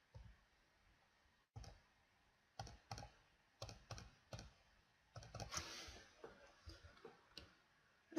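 Someone types a password on a computer keyboard in a quiet room: scattered single key clicks at first, then a quicker burst of taps, crisp and close.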